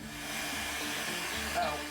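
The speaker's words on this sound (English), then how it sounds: "Then I cut down this piece of PVC pipe and straightened it with a heat gun." Steady blowing hiss of a heat gun running continuously while heating PVC pipe, fairly close and moderately loud, with no talking.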